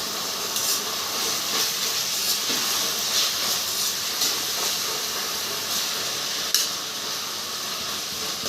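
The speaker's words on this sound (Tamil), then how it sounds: "ஸோ இந்த வெங்காயம் நல்லா பொரிஞ்சு வரணும்" Onions frying in oil for a curd chicken masala gravy, a loud continuous hissing sizzle close by with one sharp pop, no talk.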